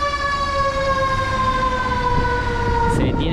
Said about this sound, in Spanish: Se detiene todo el tráfico cuando suena alguna sirena. Así sea de policías o de bomberos